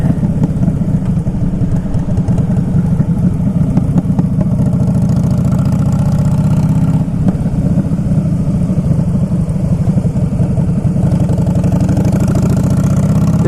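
A 2011 Harley-Davidson Fat Boy Lo on a test ride rumbles with a loud, steady, deep engine drone and constant road and wind noise, with a slight dip midway as the rider shifts.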